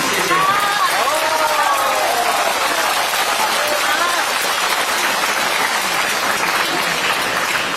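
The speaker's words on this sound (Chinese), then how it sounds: "谢谢观众朋友们的热烈掌声" Audience at a Peking Opera concert gives sustained, dense applause, a steady loud patter of many clapping hands, with voices and faint melodic tones heard through it.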